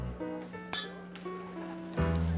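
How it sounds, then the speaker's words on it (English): Glasses clink together in a celebratory toast between two people, a couple of bright ringing chinks that sustain briefly over a quiet room. "Come on, clink glasses."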